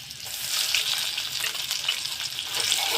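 Lentil paste frying in oil with cumin seeds and slit green chilies, a steady close broadband sizzle with faint stirring scrapes, continuous for the whole stretch with no voices.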